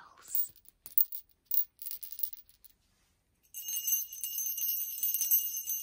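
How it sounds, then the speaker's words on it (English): Small bells tinkle in a few short, bright bursts, then a sustained shimmering jingle rings out for the last couple of seconds. "I love little bells."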